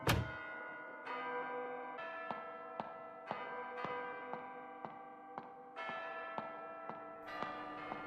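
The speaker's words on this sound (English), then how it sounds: "Bells are ringing." In the Detention video game, bells ring in a slow, regular series of bright metallic strikes, each leaving a long ringing decay, loud and close with no voices.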